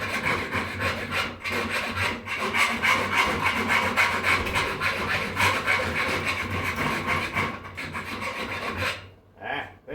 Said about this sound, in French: Ça, c'est ce qu'ils appellent une lime bâtarde. Fait que les dents sont très, très grosses. Donc, c'est pas long à limer.